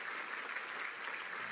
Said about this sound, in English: Let us begin today's rally with a warm round of applause